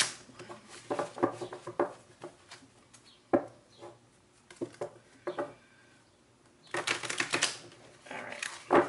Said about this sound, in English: I think I'm going to do 2 more shuffles.